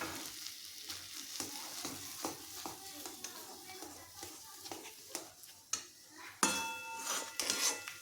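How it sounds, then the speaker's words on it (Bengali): Coriander leaves being stirred in a frying pan, a steady sizzle broken by repeated scraping strokes of a spatula, with a louder clatter near the end. "এখানে ধনেপাতাটা দিয়ে দিয়েছি, দিয়ে আবার একটু নাড়াচাড়া করে নিচ্ছি"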